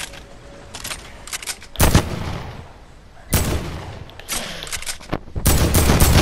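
Video game gunfire in bursts of sharp shots, loud and close, with heavy volleys separated by quieter stretches of lighter firing.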